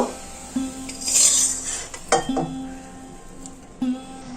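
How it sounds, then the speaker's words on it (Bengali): Boiled greens tipped from a pot into a pan while making shak bhog, with a few close metallic clinks and knocks of utensil on cookware over soft background noise. "এখন শাকটা ঢেলে দেব"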